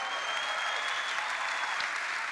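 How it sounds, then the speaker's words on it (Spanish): A church congregation in El Chaco, Argentina applauds with dense, sustained clapping from many hands, continuous and fairly close throughout. "Vamos, vamos, vamos, dale un aplauso a Jesús."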